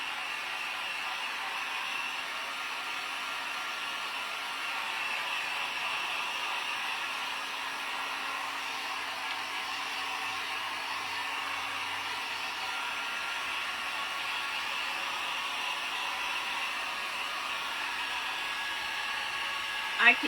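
A hair dryer blows steadily while drying hair, a continuous broadband whoosh held at an even level for the whole stretch, with no talk over it.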